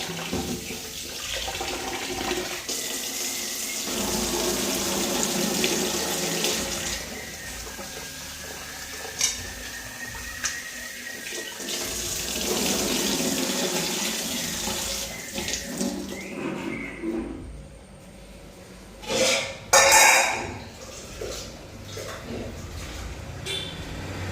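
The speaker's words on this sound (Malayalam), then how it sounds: "അരി എടുത്ത് കഴുകുകയാണ്." Rice being washed under a running kitchen tap, a steady close stream of water with sloshing and swirling in a pot, interrupted by a few splashes and a pause near the end.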